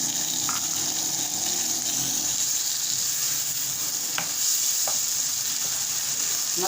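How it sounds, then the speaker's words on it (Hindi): Spice masala with green chilies, tomatoes, a little water and beans fries in a pan, giving a steady, close hiss of sizzling throughout, broken by a few light clinks of stirring, with no talking. "मसाले को हम भूनेंगे"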